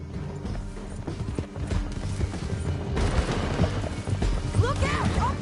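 Horse hooves clip-clop at a gallop in the video game Horizon Zero Dawn, a steady, busy rhythm under mechanical clatter and shouting voices during a chase.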